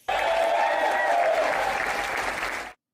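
Audience at a breakfast event breaking into loud, sustained applause and some cheering, a dense crowd clapping that holds steady before cutting off abruptly.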